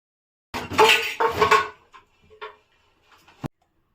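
Kitchen pots, pans and utensils clatter and clink while being packed during a room move, with a burst of loud metallic rattling followed by a few softer knocks and a final sharp clink.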